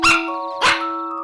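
A cartoon sound effect of a guard dog barking: two sharp, loud barks about half a second apart, each trailing into a ringing tail.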